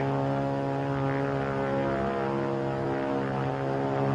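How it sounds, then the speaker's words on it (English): A WWII fighter plane with a propeller drones steadily and loudly throughout, its engine hum constant and unbroken, heard alone with no voices. "It's a plane, all right. But what sort of a plane?"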